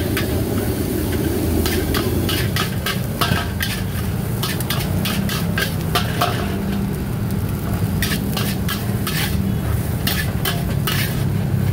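Chicken nasi goreng being stir-fried in a pan at a street food stall, a steady loud sizzle under rapid rhythmic clanks and scrapes of a metal spatula on the pan, with no talk.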